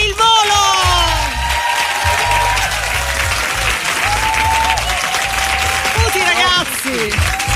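An audience at a radio music club show gives loud, sustained applause that fills the whole stretch, while a host's voice speaks over the clapping.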